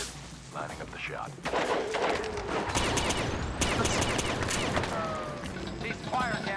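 Gunfire from The Bourne Conspiracy video game: repeated crackling shots and bursts running throughout, dense and fairly loud, with voices talking over the shooting.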